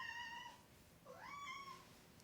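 A house cat gives two soft, drawn-out meows indoors, the second rising and then falling, faint against quiet room noise and with no speech.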